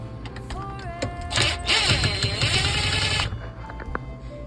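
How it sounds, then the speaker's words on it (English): A power driver backing screws out of a jammed garbage disposal, a whirring motor burst lasting about two seconds amid clicks and handling noise, close and fairly loud. "Unscrew these 4 screws that is connected to garbage disposal"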